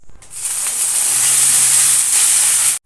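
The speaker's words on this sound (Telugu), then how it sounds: "ఇదే బాండిలో ఇంకో కొద్దిగా ఆయిల్, 1 టేబుల్ స్పూన్ ఆయిల్ వేసుకొని కొత్తిమీర పుదీనా కొద్దిగా వేసుకుంటూ మొత్తం ఫ్రై చేసుకోవాలి" Coriander and mint hit hot oil in a pan, a loud, close, continuous sizzling hiss that starts abruptly and cuts off sharply near the end.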